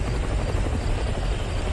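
An airplane flying in the Roblox game Mad City gives a steady, loud, buzzing engine drone that holds constant throughout, with no voices over it.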